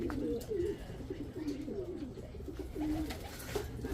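Racing pigeons coo softly and continuously at the loft after a long, hard race, a low rolling murmur of several birds close by.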